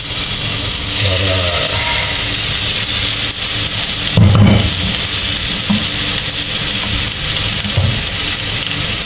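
Ingredients for laing being sautéed in a pan, a loud, continuous sizzle with occasional scraping stir sounds and a brief clatter midway, close and filling the whole clip.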